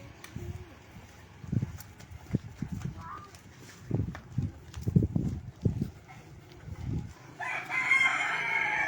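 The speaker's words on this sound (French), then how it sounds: "Voilà, il y a un coq." A rooster crows at a house in Padang, its call rising clearly near the end over a busy background of scattered knocks and clip-clop-like thuds, with some voices in the mix.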